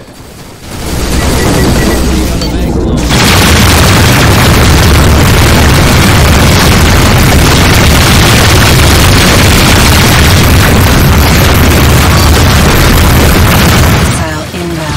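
Missile explosions in a video game produce a loud, sustained roar of blasts and rumbling booms that fills nearly the whole stretch. It starts abruptly after a second and fades near the end, with speech mixed in underneath.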